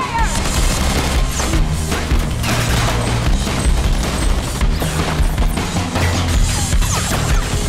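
A volley of gunfire in a chaotic action scene blasts continuously and loudly, with overlapping shots, crashes and booms filling the whole stretch over a dense background.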